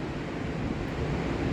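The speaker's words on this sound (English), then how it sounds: "you can hear the ocean." Ocean surf washes steadily outside a quiet coastal cabin, a continuous broadband roar of breaking waves with faint wind, no voices.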